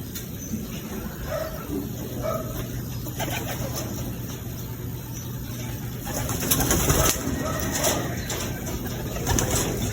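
Racing pigeons returning to the loft during a summer race coo in soft, repeated calls near the microphone, with some fluttering and background rustle.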